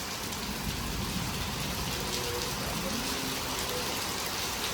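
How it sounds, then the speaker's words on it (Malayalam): Rain pours down steadily outdoors during a thunderstorm, a soft, even hiss that stays fairly faint and never changes. "പുറത്ത് നല്ല ചെറിയൊരു ഇടിയുണ്ട്, നല്ല മഴയും ഉണ്ട്"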